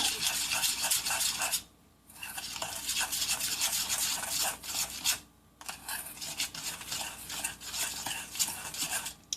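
A utensil scrapes and stirs plain mustard in a cup, a close, raspy rhythmic rubbing that runs continuously with two brief pauses.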